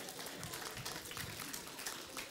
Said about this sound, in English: Clap your hands for Angie.